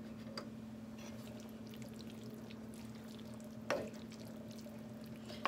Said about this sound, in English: I'm going to put just a bit of the liquid and turn up the heat.